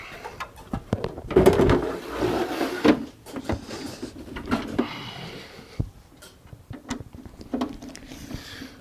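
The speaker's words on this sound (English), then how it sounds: "let's put the front of the main case on" A plastic front panel is fitted onto a Tandy 1000 computer case, producing close, irregular clacks, scrapes and knocks of plastic pressed and snapped into place, with a few sharper taps between quieter handling sounds.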